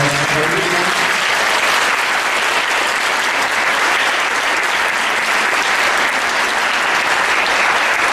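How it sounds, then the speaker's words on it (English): A theater audience gives a full, continuous round of applause for student authors of a creative writing program, loud and unbroken throughout, with a brief musical tone at the start. "So please give all of those students a round of applause"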